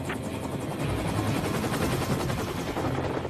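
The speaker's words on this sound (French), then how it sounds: "La M134 tire 3000 balles par minute, soit 50 balles par seconde." An M134 minigun firing at about 3,000 rounds per minute, one continuous dense, roaring buzz that holds steady and loud throughout, with no pause and no talking.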